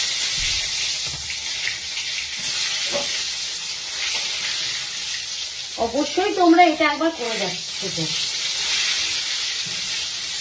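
Eggplant slices fry in a kadai for begun bhaja, a steady sizzling hiss running throughout while a person speaks briefly partway through.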